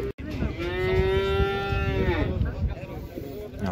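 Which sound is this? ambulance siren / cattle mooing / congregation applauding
cattle mooing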